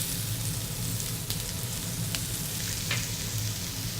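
Onion frying in a pan on low heat, following chicken legs, makes a constant dense crackling sizzle, close and even, with a few faint ticks of stirring.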